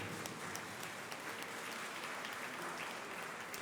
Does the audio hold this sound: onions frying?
no